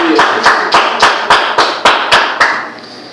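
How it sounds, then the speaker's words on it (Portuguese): A church congregation claps in unison, with about nine sharp, loud, evenly spaced claps in a steady rhythm before the sound fades out. "Você pode aplaudir ao Senhor por essa palavra"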